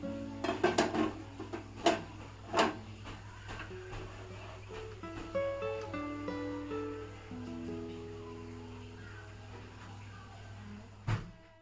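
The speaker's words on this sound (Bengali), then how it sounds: "তো আমি চুলায় কড়াইটা বসিয়ে দিলাম।" A metal wok is set onto a kitchen stove: a few sharp clanks and scrapes of cookware, then quieter clinking, and a final metallic clang over a low steady hum.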